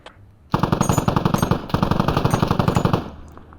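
Rapid bursts of automatic gunfire in the Squad military shooter game, sustained and loud with a brief gap near the middle, then stopping abruptly with faint background noise.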